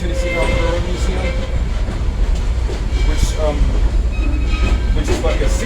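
Southern 630 pulls the Missionary Ridge local at the Tennessee Railroad Museum, a steady loud rumble and clatter of rolling rail cars with intermittent squeals, heard from on board throughout.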